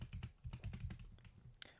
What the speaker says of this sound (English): I don't know why I'm clicking Control Z the whole time.